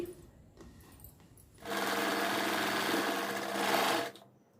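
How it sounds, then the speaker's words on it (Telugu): A sewing machine stitching fabric for a hook strip, running in one loud, fast, continuous burst of about two and a half seconds. Quieter handling sounds of the cloth come before it, and no one speaks. "ఇక్కడ స్టిచ్ వేసేయండి"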